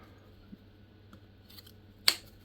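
Scissors snipping while a fig bonsai is repotted, a few quiet clicks then one sharp, close cut near the end against a faint background hum.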